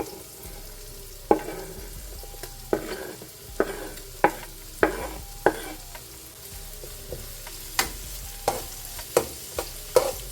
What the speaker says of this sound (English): Next, I'm going to go in with the green onion, which is here.